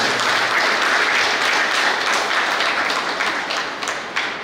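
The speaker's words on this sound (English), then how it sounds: "Give a clap to Father once again." An audience claps for a priest at a Capuchin singing competition in Goa, a full, sustained round of applause that stays strong and then tapers slightly near the end.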